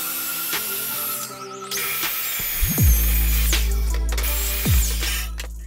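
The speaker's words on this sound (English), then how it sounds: "A really good way to break down some big pieces of plywood is to strike a line and use a straight edge and circular saw" A circular saw run along a straight edge to break down large plywood sheets, a loud steady whine with two deeper bursts as the blade bites the wood, heard close with no talking.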